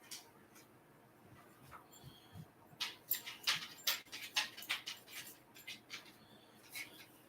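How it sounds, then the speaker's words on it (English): A pet dog whimpering and pattering near a door as it wants to go outside, with soft high whines and scrabbling bursts clustered in the middle, fairly faint against room quiet. "Dog wants to go outside, so better let the dog out."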